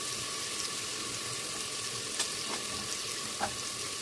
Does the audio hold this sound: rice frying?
yes